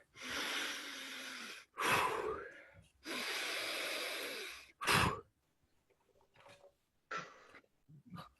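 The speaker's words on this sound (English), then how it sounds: "The deep breathing is hard to do through the nose." Deep breaths drawn and released through the nose during a qigong class, several long noisy inhale-exhale cycles close by, followed by fainter short sniffs and breaths, with no talking.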